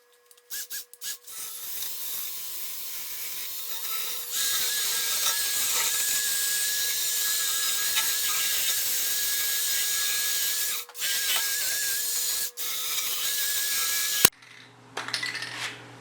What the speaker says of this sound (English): I'll probably take a wire brush and clean that up before I put it back in.